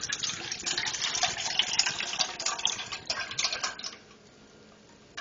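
Liquid poured into a pot while making flan, a close, gushing trickle with faint ticking that runs for about four seconds and then stops.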